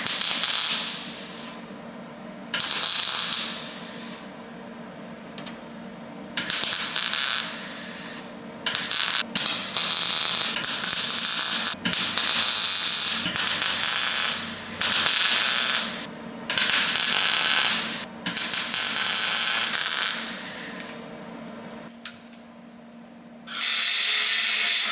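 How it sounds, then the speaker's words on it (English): MIG-style welding on a sheet-metal panel of an imported van under restoration: a series of harsh, crackling hiss bursts of a few seconds each, broken by short pauses, with a steady workshop hum underneath. "I'm going to go ahead and weld it into place."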